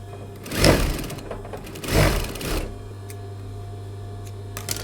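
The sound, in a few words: sewing machine stitching pinned dress pieces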